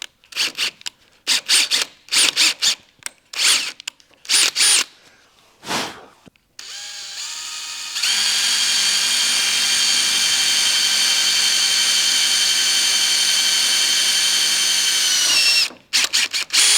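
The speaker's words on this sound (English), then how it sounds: "I do wanna grab a drill first though and drill a couple teeny holes where the ends of those cracks are" A power drill boring small holes at the ends of cracks in metal during a welding repair: a few short trigger bursts, then a long, loud, steady high-pitched whine that cuts off abruptly near the end.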